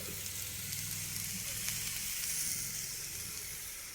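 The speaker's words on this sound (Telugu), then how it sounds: "ఇవి వేగడమే, ఇంకా కొంచెం వేగితే అయిపోయినట్టే." Chicken frying in a pan for a Telugu-style chicken fry, a steady close hiss and crackle of sizzling oil running evenly throughout with no talking.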